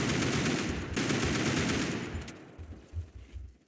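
Rapid automatic gunfire from a close-range weapon in the video game Phantom Forces, a dense rattling burst that thins out into a few separate shots near the end.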